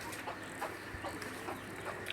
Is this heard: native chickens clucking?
yes